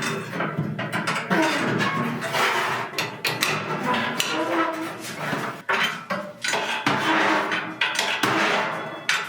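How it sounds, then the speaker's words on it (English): Metal scraper rasping soot and ash off the floor of a wood cook stove oven, a continuous close scratching and clanking with brief pauses, no talk. "right now I'm just scraping off the bottom"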